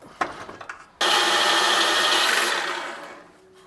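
Metal being cut for a homemade billet-style hood hinge on a GTO restomod, a few short scrapes and taps, then a loud, steady power-tool cutting whine that runs for about two seconds before easing off and tapering away.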